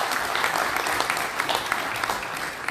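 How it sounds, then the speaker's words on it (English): A crowd at a town hall meeting with Arkansas legislators gives a steady, loud round of applause that fills the room and continues throughout without pause. "So a round of applause for them for being here in the work."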